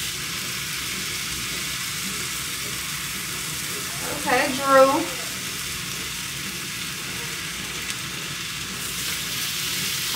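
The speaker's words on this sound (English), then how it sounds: "Oh, I got a little sizzle on it already" Food sizzles on a griddle during Thanksgiving cooking, a soft steady frying hiss running throughout, with a short spoken remark briefly rising over it.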